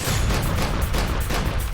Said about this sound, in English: the parking lot just erupts in gunfire